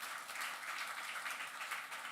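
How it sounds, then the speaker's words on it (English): A crowd at a comic arts festival claps briefly, a soft, steady spread of hand claps lasting a couple of seconds, somewhat distant and without voices. "and give him a big round of applause."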